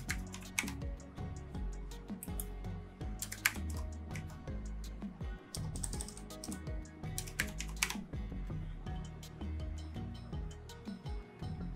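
Keys being typed on a computer keyboard while entering a password during Windows 11 account setup, a steady run of close, crisp clicks in quick irregular bursts with brief pauses, no voices.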